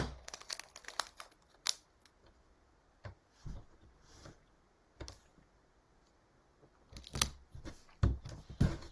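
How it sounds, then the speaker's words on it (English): Tape is pressed and crinkled onto a craft fish built from recycled CDs. Scattered crackles and clicks come in short bursts with quiet gaps between them, close by and fairly faint, with no talking. "I'll tape that guy on."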